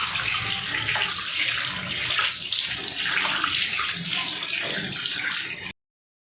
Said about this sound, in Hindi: और अब हम डालेंगे इसमें खुला पानी ताकि हम इसको अच्छे से वॉश करें।